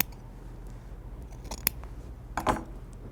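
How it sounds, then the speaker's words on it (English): Scissors cutting through jacket lining fabric: a few sparse, close snips, the sharpest two near the end, against a quiet room hush. "So you're going to go all the way around your jacket and cut these pieces."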